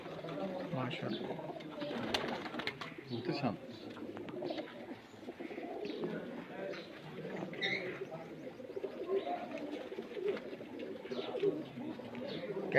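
Soft, repeated cooing from pigeons in a fancier's loft sits beneath steady close conversation, joined by occasional chirps and clattering knocks.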